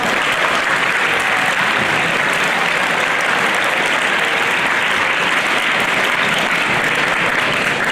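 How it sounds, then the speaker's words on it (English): An audience at a school Brotherhood-Sisterhood Week family talk gives dense, steady applause that stays loud and even from start to finish, with no voices over it. "Give them a big round of applause."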